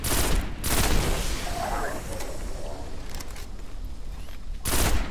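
Gunfire from a shooter video game rattles through in dense bursts, loudest at the start and end, with a softer volley in between and faint voices under the shots.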